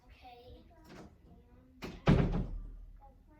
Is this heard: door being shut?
yes